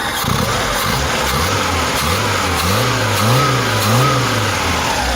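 An engine runs at low revs, a steady rumbling idle with slight wavering rises in pitch, recorded close with hissy background.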